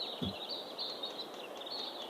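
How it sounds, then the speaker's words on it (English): Faint high chirping from birds somewhere in the distance, running steadily beneath a soft outdoor hiss, with a brief low thump near the start. "I am hearing random birds."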